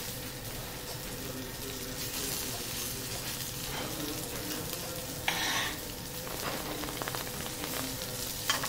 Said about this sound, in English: We bake them short on the teppanyaki.